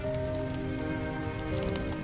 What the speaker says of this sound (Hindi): लखन का परिवार तेज बारिश में बीच सड़क पर भीग रहा था